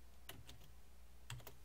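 Keystrokes on a computer keyboard while typing in a mod name, two short bursts of a few quiet clicks each over a low steady hum.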